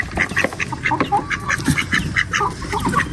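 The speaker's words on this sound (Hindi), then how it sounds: "ये हमारी 2 बतखें हैं" Several ducks quack loudly and continuously nearby, overlapping calls in a busy, irregular rhythm.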